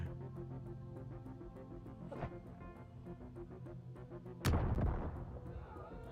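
A grenade explodes in a video game as a single loud, sharp blast late on, trailing off in a rumble, after quieter game sounds and a smaller pop earlier.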